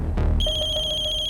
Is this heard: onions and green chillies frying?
no